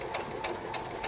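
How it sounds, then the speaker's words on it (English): A sewing machine stitches a fabric mask in a short, steady mechanical whir with a quick rhythmic needle pulse, close and alone. "and then just do a couple of stitches over the other line that you've already sewn to secure it."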